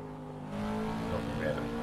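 A road car's engine drones as it is driven around Circuit of the Americas in Assetto Corsa. The engine note is steady and rises slightly as it accelerates, with a voice talking faintly over it.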